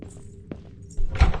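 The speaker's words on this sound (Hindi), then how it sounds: "मुझे कमला चुड़ैल के पैरों की आवाज आ रही है।" Footsteps of the witch Kamla in the Kamla horror video game: soft, scattered thuds that grow into a louder, heavier thumping burst toward the end, with no talking.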